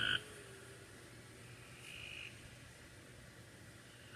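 Frogs croak outside, faint and far off, with a short call at the start and a soft buzzing trill in the middle over low ambient hiss.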